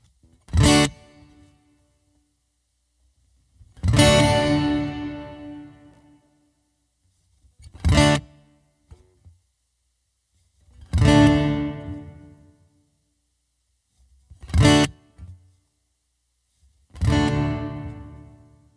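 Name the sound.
hall reverb on guitar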